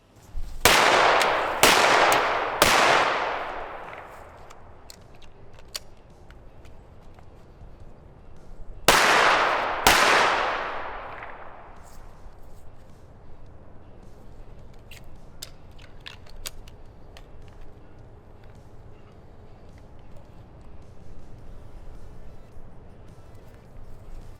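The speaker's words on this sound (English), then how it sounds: "So you're just taking a magazine out of the gun, stowing it on your person where you can retrieve it if you have to" A handgun fires three quick shots, then two more after a pause, each sharp crack ringing out loudly, followed by quieter metallic clicks and handling noises as a magazine is swapped during a tactical reload.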